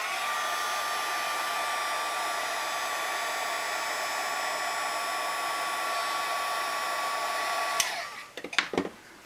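A heat tool blows hot air on a card with a steady, loud whirring hiss for several seconds, then clicks off, leaving a few soft handling knocks.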